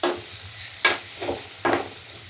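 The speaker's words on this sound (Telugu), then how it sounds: "పచ్చి బఠానీ అల్లం ఎల్లిగడ్డ పేస్ట్ ఇవ్వ మంచిగా ఫ్రై అవుతాయి" Green peas with ginger-garlic paste fry in a pan, with three distinct stirring scrapes set over a soft sizzle.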